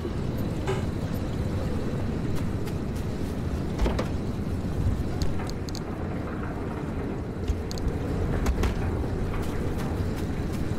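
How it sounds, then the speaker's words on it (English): Rough, uneven idle of a car engine in the Pacific Drive video game, a steady low rumble with irregular knocks and sputters, continuous and close with no talk over it. "something wrong with the engine. She's idling terribly."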